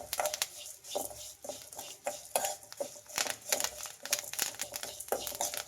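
Curry leaves and coriander frying in a pan are stirred with a metal utensil, giving repeated scraping and clinking strikes in an irregular rhythm over a soft sizzle, close and fairly quiet.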